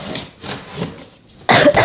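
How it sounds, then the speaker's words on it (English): A person getting over a cold coughs several times in quick succession, with short, close, husky bursts and a louder final cough. "Sorry about my cough today."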